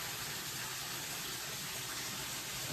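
Constant broadband rushing of water at the bottom of a deep hole in an abandoned Welsh quarry, an even, unbroken hiss with no talk over it.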